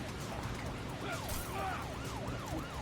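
A police car siren in the video game GTA 5, set in Los Santos: a repeating rising-and-falling wail, fairly faint and distant, cycling several times over low engine and traffic noise.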